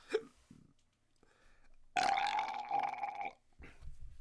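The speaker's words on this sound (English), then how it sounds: "Yeah, I needed a burping." A single loud, drawn-out burp erupts close by, lasting over a second, with brief quieter sounds before and after.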